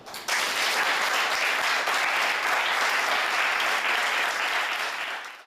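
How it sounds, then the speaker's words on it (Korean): Students in a software class on self-driving cars break into applause, a dense, loud burst of many hands that starts abruptly and holds steady for about five seconds before cutting off. "자, 우리 자축하는 의미에서 박수."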